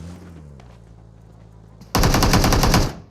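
A sudden burst of rapid automatic gunfire from PUBG Mobile rattles loudly for about a second, aimed at a bot, after a quieter stretch of low in-game background hum.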